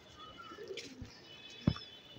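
Pigeons coo softly in a loft, faint and low beneath a steady background hiss, with one sharp knock partway through.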